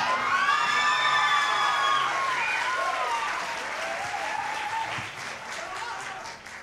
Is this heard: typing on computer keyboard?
no